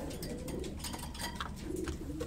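A young pigeon or dove coos softly in a low, repeated murmur, close by against a busy background hum, with no talking over it.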